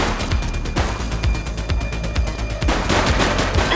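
Rapid gunfire bursts crackle through a police shootout in The Precinct video game, dense repeated shots over a loud, busy game soundscape.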